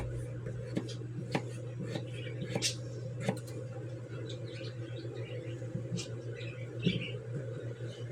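A knife slices potatoes and cuts out a bad spot on a cutting board, giving irregular light taps and scrapes over a steady low hum.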